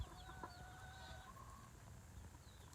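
Young chickens and roosters on a farm cluck and chirp faintly in overlapping bursts against a low background hum, with a few higher calls scattered through the short stretch.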